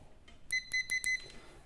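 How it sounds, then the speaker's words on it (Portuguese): A handful of short, sharp electronic beeps in quick succession, close and clear, from a multimeter's continuity buzzer while testing a capacitor on an electronic circuit board, against quiet background. "Multímetro na escala do BIP, famoso buzzer"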